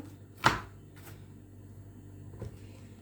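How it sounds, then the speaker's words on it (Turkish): A knife chops onion into small pieces on a cutting board, giving three sparse, sharp knocks spread over a few seconds against a quiet room background. "Soğanı tekrar böyle küçük küçük doğrayayım."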